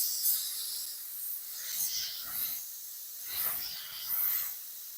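Airbrush spraying paint onto a motorcycle helmet, giving a soft, close hiss that swells and fades in several short passes.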